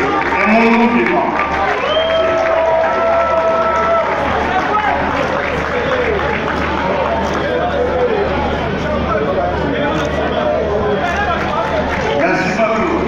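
Audience applause mixed with crowd noise at the Union sacrée de la nation congress, where Félix Tshisekedi is designated as a candidate. It forms a loud, sustained, dense wash that holds steady for the full stretch, with murmuring voices underneath.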